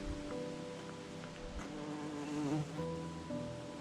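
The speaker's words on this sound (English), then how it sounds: "Well, it's full of bees." Bees and wasps buzz continuously around plants in a forest, a steady droning hum with individual insects passing close by and drifting away.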